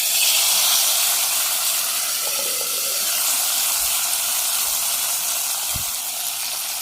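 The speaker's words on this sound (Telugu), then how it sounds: "ఈ తాలింపు తీసుకొచ్చేసి దీంట్లో వేసుకుందాం." Hot tempering added to an onion gongura curry, giving a broad steady sizzle and hiss that holds at the same level throughout, with a couple of faint knocks and no speech.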